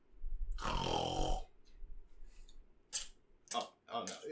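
A person imitates snoring with a long, rasping inhaled snort, then gives a few shorter snorting and grunting bursts, close and fairly loud.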